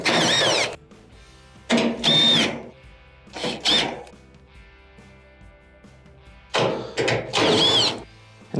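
A power drill backs screws out of the blower housing of a Maytag dryer, four separate bursts of whirring motor with rising and falling pitch, separated by quiet pauses.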